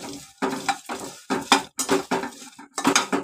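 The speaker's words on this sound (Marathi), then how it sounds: "हे बघा ते मसाला वेलची भाजते" Cardamom pods dry-roast in a kadhai for homemade Malvani masala, heard as a run of short, rhythmic scraping and clinking strokes of a spatula against the metal pan, close and fairly crisp.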